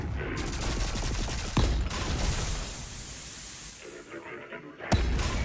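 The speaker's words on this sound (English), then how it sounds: "I don't even know from what angle I'm getting shot at." Rapid gunfire in the video game Volcanoids rattles in dense bursts, with a couple of sharp louder shots standing out over a constant mechanical din and no talking.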